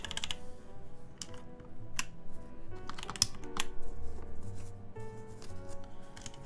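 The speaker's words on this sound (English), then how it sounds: "these are Holy Panda switches" Typing on a mechanical keyboard fitted with Holy Panda switches, heard as close, uneven bursts of sharp key clacks with short pauses between them and no talking.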